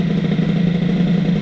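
Moped engine (Fox Origine) fitted with a Boost cylinder head idles close up, a steady loud low putter with slightly uneven popping firing pulses throughout, no voices.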